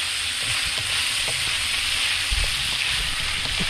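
Wild dove meat sizzling and frying in its own rendered fat, a steady close hiss with faint crackles and occasional stirring clatter throughout.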